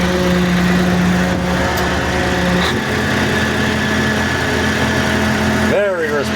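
Cummins 903 diesel engine idling shortly after a cold start, a steady low rumble with a strong hum that shifts partway through, close by and continuous, with someone talking over it.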